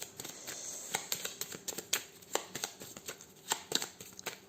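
Cards sliding and snapping off a tarot deck during a reading, a run of short crisp flicks and papery shuffles at close range, with no talking.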